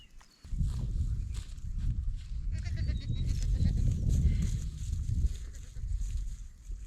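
Sheep and lambs bleat on a farm with lush pastures, with a steady, close bed of shuffling and rustling from the flock that stays loud throughout.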